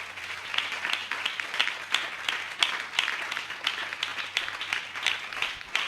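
Congregation clapping at a church service to welcome the sermon, with steady, fairly moderate applause from many hands that continues throughout, with no speech over it.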